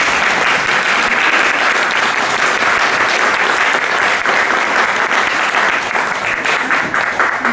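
An evening audience at a literary panel applauds the panel participants with dense, sustained clapping that stays loud and even throughout, with no speech on top.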